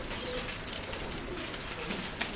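Teddy breeder pigeons in a loft coo softly amid faint rustling and wing flutters, a low, close, continuous murmur with a few brief flaps.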